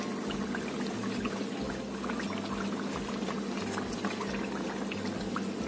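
Indonesian gorengan fritters frying in a pan of hot oil, a steady dense crackling sizzle with continuous bubbling that stays even and fairly loud throughout, with no talk.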